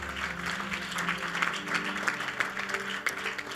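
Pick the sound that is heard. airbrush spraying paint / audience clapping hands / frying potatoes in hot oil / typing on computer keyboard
audience clapping hands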